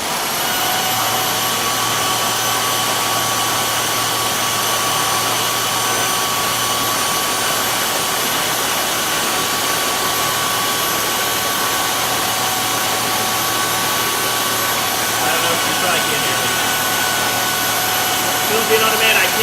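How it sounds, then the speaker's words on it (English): An electric grain mill grinds malt for a coconut brown ale on brew day, producing a loud, unbroken motor roar with gritty crunching underneath that runs without pause for the full length. "I'm grinding my grains."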